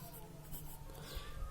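Pen scratching across paper as answers are filled in on a Class 10 social science exam paper, a soft continuous scribble close by over a low steady hum, with no talk.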